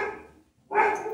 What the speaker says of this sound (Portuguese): Cachorros latindo.